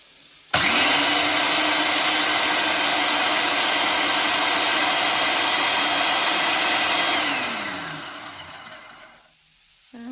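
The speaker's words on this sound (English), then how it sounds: "get that into our food processor, and then we can just make sure that that sauce is all broken down nice and even" A food processor blends tikka masala sauce in one loud, steady whir that runs for several seconds, then spins down and fades out as the motor stops.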